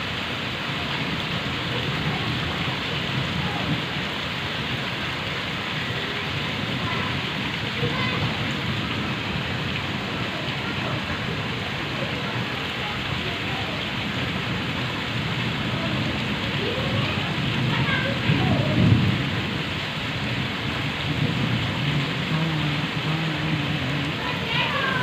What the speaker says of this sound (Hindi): ये बारिश बहुत ख़तरनाक है।